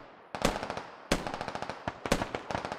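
Rapid bursts of automatic gunfire in a multiplayer shooter, sharp close cracks repeating in quick rhythmic volleys of several shots each, loud and unaccompanied by talk.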